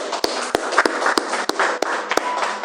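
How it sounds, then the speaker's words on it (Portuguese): A church congregation clapping their hands together in a steady burst of applause, with several sharper, louder claps standing out at regular beats over the dense patter, no talking. "Palmas para Jesus."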